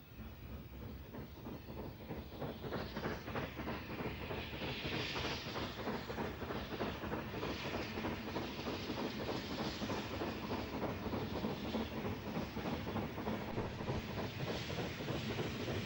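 Somerset and Dorset Railway Class 7F steam locomotive 53809 working at a distance, a faint steady rhythmic chuffing with hissing steam and rail rumble, carried on wind over sixteen seconds.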